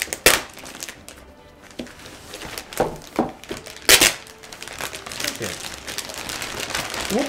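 A plastic shipping bag around a canvas print crinkles and rustles in bursts as it is handled up close, with sharp crackles and quieter pauses between.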